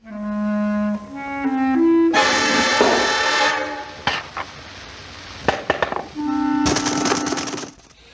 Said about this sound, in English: Here we have the Russian dolls firecrackers.